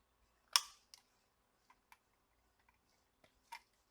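A tool cuts the small legs of a PS5 DualSense analog thumb stick, giving one sharp close snip followed by several fainter, scattered clicks and ticks in near silence.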